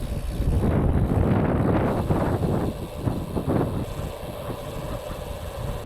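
Blustery wind roars across the microphone in gusts on an open road while cycling as a storm builds, loud and steady with no other clear sounds.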